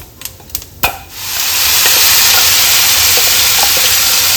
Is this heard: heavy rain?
no